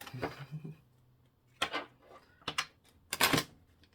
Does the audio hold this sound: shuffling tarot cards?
yes